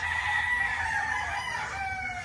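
A gamefowl rooster crows once in a long drawn-out call, fairly close and clear over a low background murmur.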